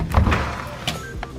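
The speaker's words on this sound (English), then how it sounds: "Maybe we could get another door to open." Door in an abandoned rural Kansas nursing home forced open: a heavy mechanical thunk and scrape, then a grinding rattle and a second sharp knock, close and fairly loud.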